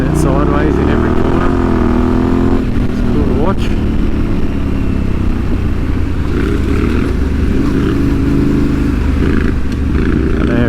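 Yamaha Tenere 700 Rally motorcycle riding off-road in the Victorian High Country, engine revving and shifting pitch up and down as it slides through corners, loud and continuous with someone talking over it.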